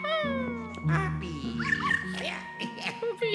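A cartoonish dog in the video game Luigi's Mansion 3 whimpers and yips in short, bright, high cries over game music, with a person talking alongside.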